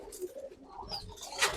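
Pigeons coo softly in a loft where they are nesting with eggs and chicks, low murmuring calls with a brighter chirp or flutter near the end.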